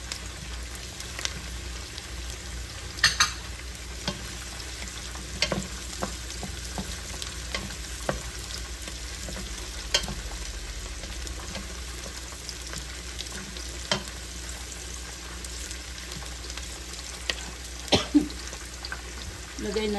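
Garlic fries in a pan with a busy crackling sizzle that holds throughout, punctuated by occasional utensil scrapes and clicks.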